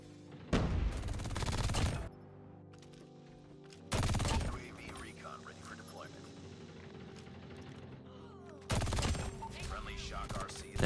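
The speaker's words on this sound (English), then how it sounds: "Took out our LMG and just kept spawn trapping everyone for like 20 seconds until running out of ammo." An LMG machine gun in the mobile shooter game COD Mobile fires three loud, sustained automatic bursts, separated by quieter gaps of background game ambience.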